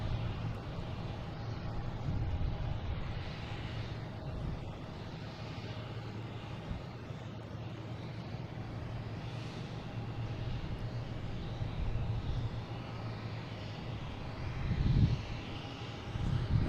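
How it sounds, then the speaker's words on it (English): An American Airlines Embraer E-175 jet taking off from Boston Logan, a steady distant engine roar with a low rumble that builds slightly toward the end, heard alone without talk. "we have American Airlines taking off, heading to Columbus"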